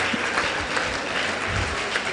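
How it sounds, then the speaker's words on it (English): An audience at an honours ceremony in the Ondo Kingdom claps steadily and loudly, a dense, sustained burst of applause from a crowd. "Let's keep clapping as she comes."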